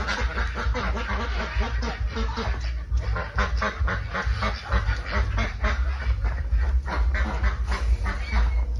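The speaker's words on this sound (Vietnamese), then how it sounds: "Ao này chủ nhân thả vịt xuống nè." A flock of ducks released onto a farm pond below a concrete stilt house gives off a dense, continuous chatter of quacks, loud and close, with steady background noise throughout.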